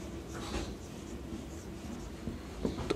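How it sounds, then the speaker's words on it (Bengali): Chalk or marker writing a line on a classroom board during a Bengali hydrostatics lesson, soft scratchy strokes under room noise with a couple of sharper taps near the end. "এখানে লিখে দিচ্ছি একটা লাইন"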